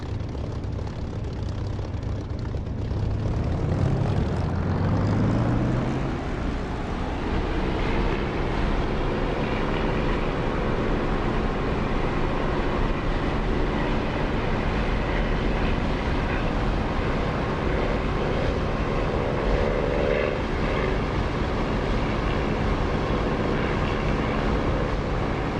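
Aircraft engine in a flight sim game throttling up, a steady loud drone whose pitch rises over the first few seconds and then holds as a continuous roar, with no talking.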